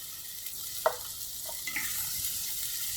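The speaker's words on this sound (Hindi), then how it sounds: "इसको मज़ीद 2 मिनट के लिए फ्राई करेंगे।" Spinach and boiled chickpeas fry in a pan over a medium flame, giving a soft steady sizzle with a couple of brief sharp crackles and light stirring scrapes, with no talk.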